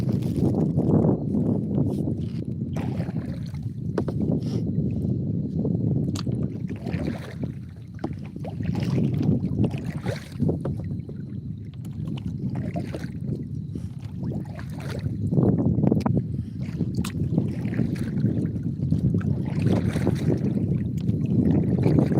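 Paddling in the ocean while surfing at sunset, with repeated splashing hand strokes and rushing water in an uneven rhythm, loud and close over steady wind noise.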